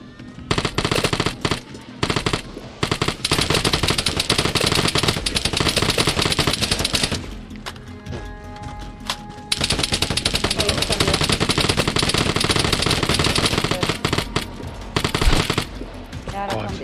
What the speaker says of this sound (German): Du schießt doch endlich.